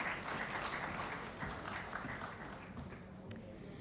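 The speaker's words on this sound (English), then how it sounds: "let's give her a round of applause" An audience at an Indian stage event for a young student entrepreneur applauds a new presenter, a dense, moderately quiet wash of clapping that holds steady and then slowly thins out toward the end.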